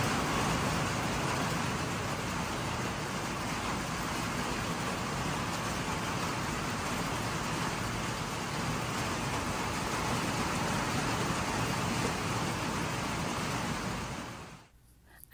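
Steady summer rain falls onto a covered patio, a broad, even hiss that continues unchanged for the whole stretch before cutting off abruptly at the end, with no voices.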